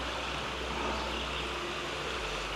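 Creek flowing beside a woodland trail, a soft, steady babble and rush of water, continuous and moderately close with no voices.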